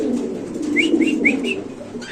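Pigeons cooing at a pigeon market, a low close rolling coo with a few soft higher chirps layered over it, no talk.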